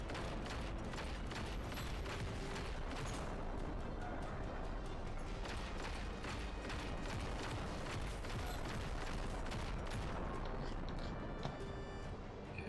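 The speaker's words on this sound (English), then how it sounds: "a massive amount of explosions and chaos in the background" Explosions and gunfire in the video game Just Cause 3 form a dense, continuous wash of booms and rattling shots, steady and loud throughout as background chaos.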